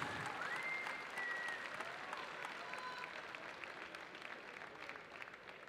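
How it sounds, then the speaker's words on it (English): Crowd applause at a 2016 female 54 kg elite national championship boxing final, a steady, fairly soft wash of many hands clapping that holds throughout and fades slightly near the end. "let's give both boxers a big round of applause"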